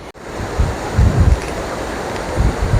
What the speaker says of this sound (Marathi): छोट्या चादरवरून पाणी वाहतंय